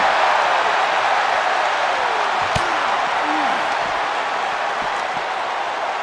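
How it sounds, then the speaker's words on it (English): Crowd roars and cheers from a WWE 2K25 intergender wrestling match, a steady loud arena wash of noise that stays constant throughout, with a few faint thuds mixed in and no separate voice. "Listen to this crowd."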